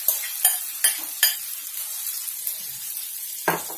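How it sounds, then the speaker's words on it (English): Chilies and diced potatoes sizzle in hot oil in a pan, a steady close frying hiss broken by several sharp scrapes of a spoon stirring against the metal. "We'll give this a little bit of a stir. We want these chilies to fry a bit."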